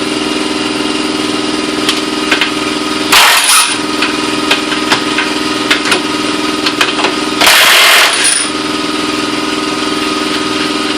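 An Ingersoll Rand 2135QTI air impact wrench, running on compressed air at about 95 to 110 psi, fires two short, loud rattling bursts loosening lug nuts, set against a steady mechanical hum from nearby machinery.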